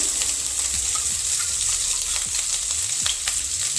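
Ginger and garlic frying in oil in a wok on a gas stove, a constant close sizzle with scraping stirs of a spoon now and then, no talking.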